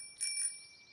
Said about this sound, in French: c'est la sonnette le plus important, parce que ça fait un son très joli